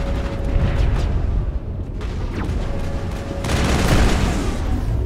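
Mounted turrets fire in the Mass Effect Pinnacle Station combat simulation, a dense continuous barrage of booming blasts that swells louder toward the end, with no talking.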